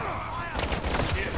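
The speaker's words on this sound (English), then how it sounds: "You are taking effective fire." Gunfire rattles in the Call of Duty DMZ video game, bursts of rapid shots over a dense, noisy game mix, loud and continuous through a short stretch.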